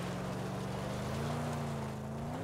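Steady engine drone of a car driven in the post-apocalyptic video game Mad Max, a continuous low hum with a slowly rising and falling pitch, loud and alone with no talk.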